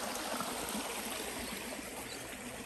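Steady broadband rush of a stream flowing past, continuous and moderately close, with gentle trickling texture and no voices.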